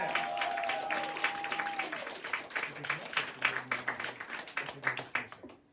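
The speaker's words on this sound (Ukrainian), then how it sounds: "Це Влада Дерманська, під ваші оплески, привітайте її!" Audience applause at a Kharkiv stage performance as a performer is welcomed: dense clapping rises and continues steadily through the whole stretch, with a tonal whistle-like sound fading out early on.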